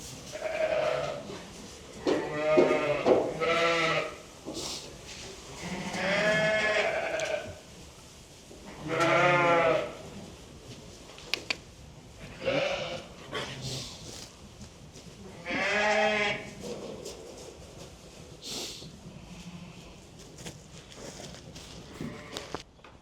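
Sheep at lambing time bleat repeatedly and loudly, several long wavering calls spaced out with short gaps between them, with quieter rustling and shuffling in the pauses.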